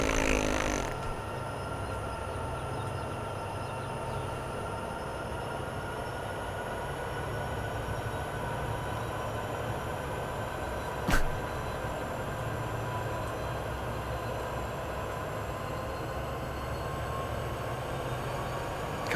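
A steady low rumble of a diesel locomotive idling in Train Sim World 2, Sherman Hill route between Cheyenne and Laramie, with faint mechanical hum, continuous throughout, with one brief sharp click near the middle.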